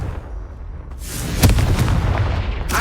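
A Confringo blasting spell fired in Hogwarts Legacy, a sudden loud burst followed by a rumbling, crackling explosion with sharp hits and debris, quiet ambience before it and no voices.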